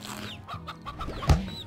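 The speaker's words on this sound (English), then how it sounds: "Oh, no, not a stony hen." Stony hen from the game Slime Rancher gives a short cluck, with a sharp louder burst near the end of the brief snippet, set over light game ambience.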